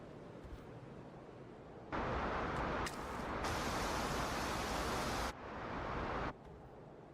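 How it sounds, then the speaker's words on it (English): Video game waterfalls give a steady rushing noise in broad blocks, starting low, then loud from about two seconds, shifting level as the view changes, with no talk. "All you can hear is the waterfalls from DIV1 right there."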